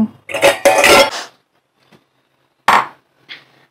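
Food poured from a cooking pot into a bowl in a home kitchen, with a few loud clattering clinks and scrapes of metal cookware early on, then a silent pause and a couple of shorter knocks, no talking.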